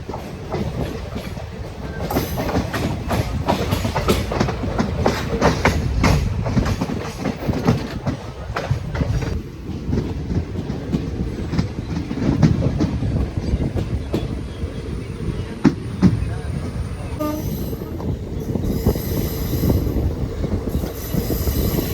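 A Guruvayur–Madurai Express passenger train rolls into a Kerala station on a loop line, loud continuous rumble with rhythmic clickety-clack of wheels over joints and brief squeals, easing toward the end.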